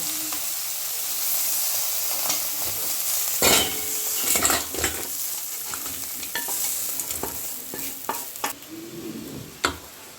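Crab pieces frying in a pan, sizzling steadily while a utensil stirs and scrapes through them in repeated bursts, close and fairly loud with no voices.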